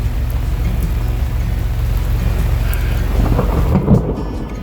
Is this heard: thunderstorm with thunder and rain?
yes